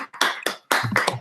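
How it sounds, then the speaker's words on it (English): Several bursts of hand clapping at the close of an online chapter meeting talk, uneven and close to the microphone with short gaps between them. "Lots of virtual clapping going on."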